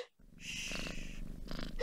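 A cat purrs in a short, close, rough rumble, with a scuffle and a brief breathy snort in a tense space-horror scene.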